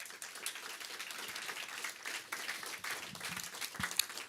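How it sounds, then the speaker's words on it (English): A conference audience in Amsterdam applauds the organizers with sustained, fairly soft clapping from many hands, heard at a distance. "let's give them a round of applause."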